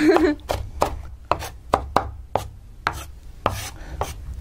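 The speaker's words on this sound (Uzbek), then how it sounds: "Bu piyozni ushaqchani yutamiz." A knife chops an onion into small pieces on a board for an Uyghur meat-bread dish, about ten sharp, evenly spaced cuts close by, with no talk.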